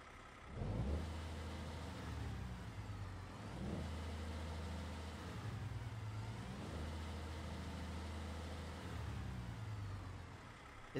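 Cummins X15 engine of an International cattle hauler in American Truck Simulator turning over and settling into a steady, deep idle, with a couple of revs swelling and fading, loud and close.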